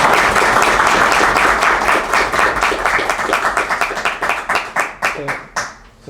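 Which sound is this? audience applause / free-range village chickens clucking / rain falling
audience applause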